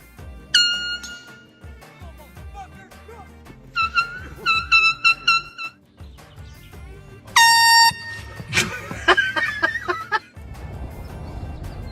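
Loud air horn blasts used as a prank on a street near a car, several sharp sustained honks in bursts separated by gaps, with clucking fowl-like noises and shouting voices between them.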